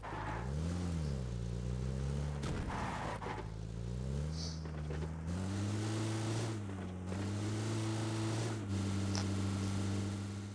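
Game vehicle engine droning steadily as it pulls away, its pitch rising and dipping with gear changes and throttle, with wind-like noise and a few brief clatters along the way.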